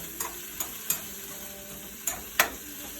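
Stirring and sautéing in a pan for a coconut milk dish, with a steady sizzle under several sharp utensil scrapes and clinks spread across the moment, fairly close and loud.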